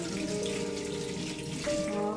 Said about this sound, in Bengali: এখন বাসনগুলো সব ধুয়ে নিব